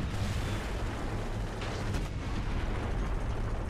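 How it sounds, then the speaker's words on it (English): An airstrike in War Thunder rumbles as a dense, continuous roar of explosions and heavy blasts with a few sharper bursts, loud and unbroken throughout with no voices. "There's the airstrike. And look, it's a suicide airstrike."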